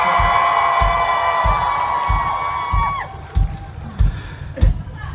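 A concert crowd in Gwangju cheers loudly for band option two at a show, the roar sitting over sustained instrumental tones and a steady thumping drum beat, with a few sharper shouts near the end.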